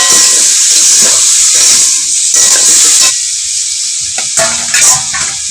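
Water poured into a hot pan with garlic paste bursts into a loud, close hissing sizzle that gradually subsides, with a few stirring clatters near the end.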